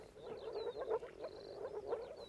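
A chorus of pond frogs in a mountain hay meadow gives off continuous rasping croaks, several pulsing calls overlapping nearby at moderate loudness without any talking.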